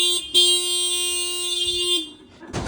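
A scooter horn blares in one near, loud, steady tone for about two seconds, with a brief stutter at the start, then cuts off.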